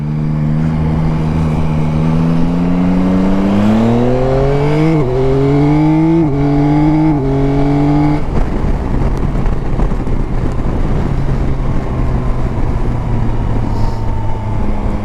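A 2021 Yamaha Tracer 9 GT with the 900cc CP3 three-cylinder engine roaring through its intake while ridden, rising and stepping through gears up close, then settling into a steady drone under heavy wind rush.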